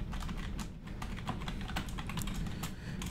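Steady keyboard typing while writing a C program for a GPA assignment, a continuous patter of close, fairly quiet key clicks over low background hum with no talking.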